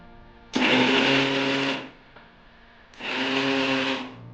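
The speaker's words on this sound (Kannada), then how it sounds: "ಹಂಗಾದ್ರೆ ಮಿಕ್ಸಿಗೆ ಹಾಕೋಣ ಅಲ್ವಾ?" A kitchen mixer grinder blitzes moong dal into a semolina-like powder for Shivaratri hesaru bele uppittu: two loud whirring bursts of about a second and a half each, separated by a short pause, with no talking.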